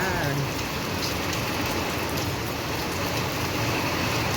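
Heavy monsoon rain in Pune pours down in a steady, dense hiss that stays even throughout, with no voices over it.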